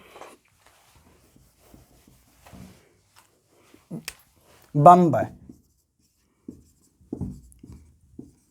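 A teacher writes on a board during a share market lesson, giving sparse short scratches and taps of the writing tool, with a brief spoken word in the middle and a few quiet voice fragments.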